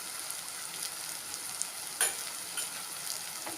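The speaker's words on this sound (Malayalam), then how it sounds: "ഇത് നന്നായിട്ട് ഇളക്കി കൊടുക്കാം." Mango pickle being stirred with chili powder and chili flakes in a hot pan, a faint continuous sizzle with a few light scrapes and taps of a spoon, no voices.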